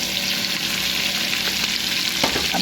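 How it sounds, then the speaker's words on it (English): Food fries in hot bacon grease in a pan, giving off a loud, dense, continuous crackling sizzle that holds steady throughout with no voices. "I'm going to drop that right into the bacon grease. Let that fry up a little bit."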